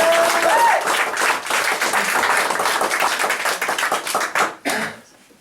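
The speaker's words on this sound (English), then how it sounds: "Can we give him a big round of applause, please?" A live audience at a spoken word poetry event in London claps loudly and continuously for a performer, close and dense, then tapers off with a last brief burst before quiet.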